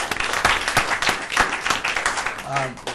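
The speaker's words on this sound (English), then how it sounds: "if you'll join me in expressing a round of applause for all three of our very good panelists" An audience claps in a dense, steady round for three panelists at a talk on Nepal, with a voice faintly mixed into the clapping.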